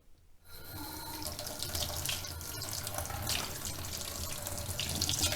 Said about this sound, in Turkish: Ellerimizi duruluyoruz.